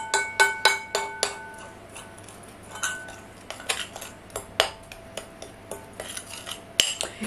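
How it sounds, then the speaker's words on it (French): A utensil mixes sugar, flour and spices in a bowl, ringing out in quick irregular metallic clinks and taps, close by and with no talk. "Je vais mélanger le sucre et la farine et les épices."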